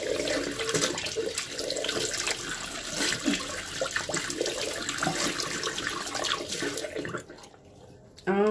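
Steady running water from a home shower, a broad continuous hiss with splashing that fills most of the clip before dropping away briefly near the end.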